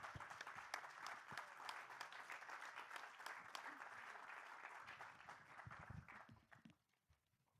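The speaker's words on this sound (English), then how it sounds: "Please join me in applauding this panel." A large audience applauds a panel at a formal award ceremony at the OECD in Paris, with sustained dense clapping that fades out near the end of the clip.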